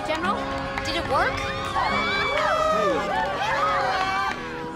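Colleagues cheer and shout excitedly together after a rocket launch, a dense burst of overlapping high voices and whoops filling the room at close range, with no single clear speaker.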